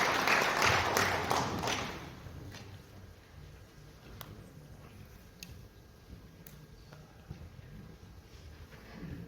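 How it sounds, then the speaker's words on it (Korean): A seminar audience at a hotel defence-industry CEO forum claps loudly for about two seconds, then the applause fades to scattered taps and faint room noise. "큰 박수로 모시겠습니다"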